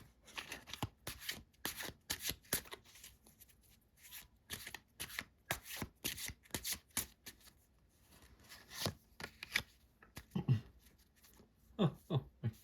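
Tarot cards from the Phantasma deck being shuffled and drawn, a rapid run of crisp riffling and snapping bursts with brief pauses, a few heavier taps near the end, close and clear with no talking.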